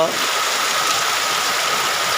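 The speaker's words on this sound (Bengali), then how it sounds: "বৃষ্টি হইতেছে এইভাবে কিছুদিন বৃষ্টি হতে থাকলে অতি শীঘ্রই অতি দ্রুত" Heavy rain falls steadily over Lakshmirchar, Gajaria, in Jamalpur Sadar, Bangladesh, a dense, even hiss that stays loud and unbroken throughout with no pauses.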